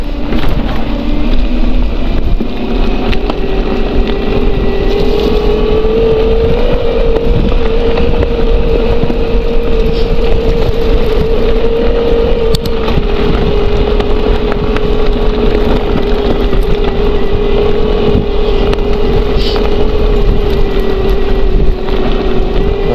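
An electric bike with a 48V 900Wh battery and reinforced belt climbs a small hill at full throttle, its motor a steady, loud drone mixed with heavy wind rush for the whole stretch.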